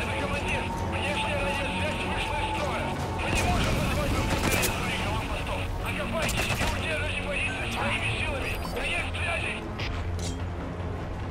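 Heavy gunfire in the Metal Gear Solid 5 video game, dense rapid bursts and volleys that continue throughout at a constant loud level, with someone talking over them.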